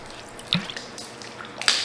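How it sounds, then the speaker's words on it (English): Water drips and splashes from a Shurflo RV water pump, heard up close as a couple of short, wet spatters over a faint background hiss. "dump the water out of this pump"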